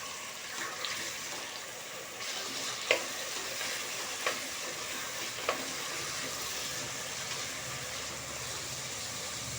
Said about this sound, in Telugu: కొంచెం సాల్ట్, ఇవన్నీ కొంచెం ఆయిల్లో మగ్గనిద్దాము.